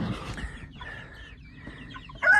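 Several hungry homestead chickens, including a small black hen of unknown breed, cluck and squawk up close in a short, busy burst that ends in a sharper, louder call.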